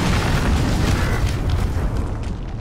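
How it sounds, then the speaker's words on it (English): A cruise missile explosion in a multiplayer shooter game, a loud, heavy, rumbling boom that fills the whole moment and slowly decays with a crackling tail. "Enemy cruise missile incoming!"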